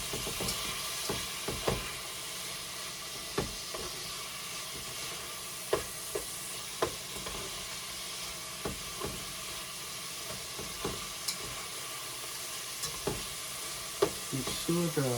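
Shrimp and cucumbers frying in a pan, a soft constant sizzle broken by sharp clicks and scrapes of stirring spaced through the clip, fairly quiet and close.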